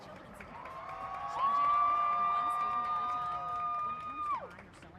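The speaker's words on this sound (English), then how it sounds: "Tech fans, a big round of applause for the Arkansas Tech University 2023 homecoming court" Arkansas Tech football fans at a homecoming game cheer for the 2023 homecoming court: sustained whoops and shouted voices swell from the stands, holding steady for several seconds before cutting off, with crowd noise underneath.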